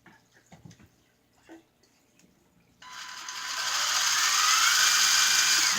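A small drill motor spinning a wobbly hand-held shaft during a test, starting after a few faint clicks and knocks, then settling into a steady, loud whirring hiss that builds and holds.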